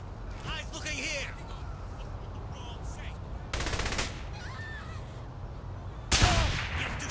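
Rapid gunfire bursts from the video game Saints Row The Third come in two sharp volleys a few seconds apart, loud against a busy game background with a voice and other sounds underneath.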